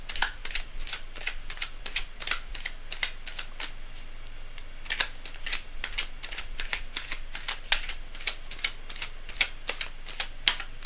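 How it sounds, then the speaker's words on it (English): A tarot card deck is shuffled in a steady run of crisp, rapid riffles and snaps, close and fairly loud, repeating evenly throughout with no talking. "I like to have really pristine shuffling."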